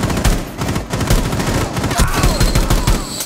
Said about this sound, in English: Okay, somebody's shooting me.